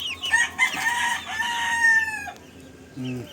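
Clucking and squawking from hens and chickens in a coop, several overlapping calls for about two seconds, then a quieter gap and one short low cluck near the end. Nobody speaks.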